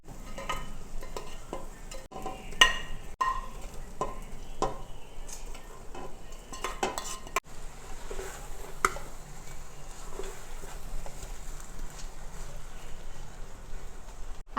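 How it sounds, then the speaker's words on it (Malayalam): Fried chicken and masala for a cooker chicken biryani being stirred in a pressure cooker, giving a faint sizzle with scattered spoon scrapes and clicks, steady and quiet, without talking. "ഇനി കുക്കറിലേക്ക് ചിക്കൻ ഇടാം കേട്ടോ."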